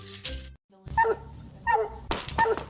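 Dog barks and yelps from a radio advertisement, several sharp barks in short bursts with a brief silent gap, fairly loud and close with no talk over them.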